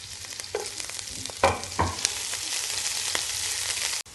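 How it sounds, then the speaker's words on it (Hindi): Shredded cabbage fries in a pan over medium heat: a steady close hiss of sizzling with a few sharp scraping stirs, no voices. "अब हम बंद गोभी है वो फ्राई करेंगे, वो भी दरमियानी आँच पे हमने करनी है"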